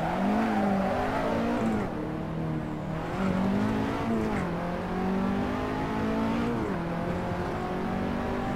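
A Lotus 211 race car engine in the Assetto Corsa racing game drones loud and continuous, its pitch climbing and dropping through repeated gear changes as it revs hard, with no talk over it.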